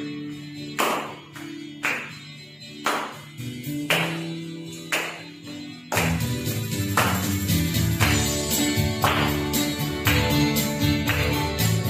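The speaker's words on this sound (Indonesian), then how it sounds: "Tepuk tangan ya." Rhythmic hand clapping for an online children's worship service at a Jakarta church, evenly spaced sharp claps over a music backing that swells fuller halfway through, with no talk.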